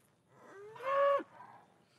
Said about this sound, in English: This fucking cow scared the shit out of me.